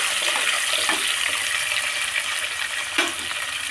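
Onions sizzling in hot oil for a cabbage and moong dal fry, a dense, steady hiss up close with a couple of soft stirring knocks.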